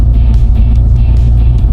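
A 1988 Ford Mustang 5.0 V8 notchback idling up close, a loud, steady low rumble with a slightly uneven lope and no voices.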